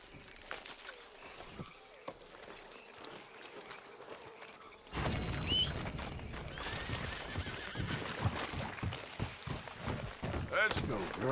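Horse hooves clip-clop along at a walking pace with a whinny in the video game Red Dead Redemption II, while other sounds and voices come and go around them.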